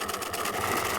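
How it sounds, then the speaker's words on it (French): A sewing machine runs a short, steady burst of stitching along a cap lining seam, its fast whirring motor and needle chatter continuous and moderately quiet. "J'ai épinglé, je couds à 7 mm"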